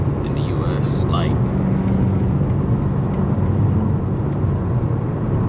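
Interior drone of a BMW F90 M5 under way: a loud, steady low engine and road rumble, with brief high chirps early on.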